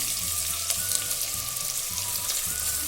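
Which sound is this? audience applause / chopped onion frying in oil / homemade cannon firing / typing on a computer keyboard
chopped onion frying in oil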